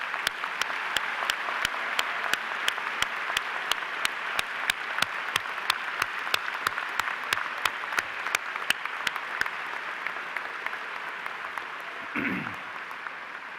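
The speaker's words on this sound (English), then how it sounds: "Let's all give this great class a round of applause." A crowd at the VMI 2019 graduation ceremony applauds the graduating cadets, with sustained dense clapping and sharp regular claps near the microphone. The clapping thins out toward the end, where a brief low thump sounds.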